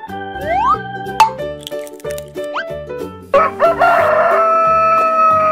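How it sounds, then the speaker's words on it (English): A cartoon rooster crows within a busy children's song, the rising call standing out over steady music, with other animal-like sound effects and bright tones around it. "Rooster."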